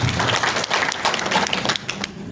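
A room full of guests bursts into applause at an alumni association's board inauguration ceremony, a dense, steady patter of many hands clapping at close range for the whole stretch, with no talk over it.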